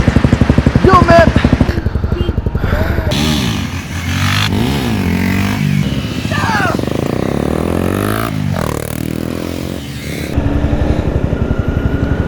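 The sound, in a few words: Honda CBR motorcycles starting a group ride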